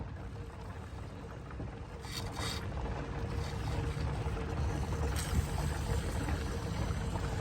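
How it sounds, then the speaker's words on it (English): Coolant bubbles and gurgles steadily inside an overheating Range Rover after the engine is shut off, a continuous churning, hissing boil heard close up with no talking. "Really bubbling inside."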